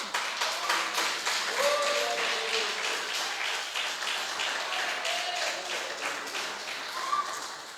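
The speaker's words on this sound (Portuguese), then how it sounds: "Podem aplaudir a Jesus." A church congregation claps steadily during a service, an even patter of many hands at moderate level with a few voices faintly mixed in.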